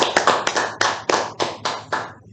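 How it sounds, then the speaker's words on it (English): Audience at a Toastmasters club meeting clapping in a short burst of applause, a series of sharp, fairly close hand claps in an uneven rhythm, eight or nine distinct slaps over a couple of seconds. "a huge round of applause to both the speaker and the individual evaluator"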